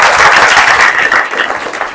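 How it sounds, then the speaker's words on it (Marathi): Audience applause during a Marathi motivational lecture, a short, loud, dense wash of clapping for about two seconds. "त्याच्याबद्दल सुद्धा टाळ्या वाजवा"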